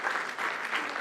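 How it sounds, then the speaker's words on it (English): A crowd applauds steadily, dense clapping filling the space at a constant loud level for about a second. "And please, applause."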